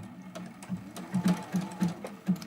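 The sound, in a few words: sewing machine doing zigzag test stitches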